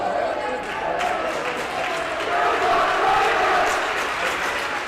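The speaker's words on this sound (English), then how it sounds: "The crowd is louder than ever," Crowd at a high school basketball game between the MHS Wildcats and Jackson County Blue Devils, a steady roar of cheering and shouting that swells toward the end, with some voices standing out.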